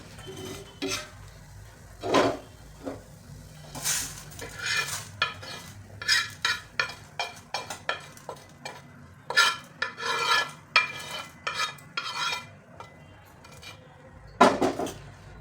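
Spices roasting in a little oil on a very old pan kept just for masala, stirred with quick, irregular scraping strokes that sound close and crisp, with a faint sizzle underneath and no talking.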